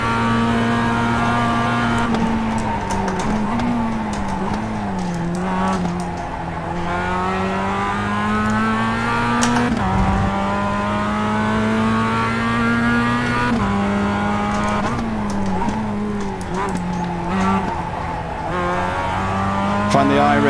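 Mazda MX-5 race car in the iRacing sim, its engine a steady, loud droning whine that holds pitch, drops at gear shifts around a lap, then climbs again, with no voices over it.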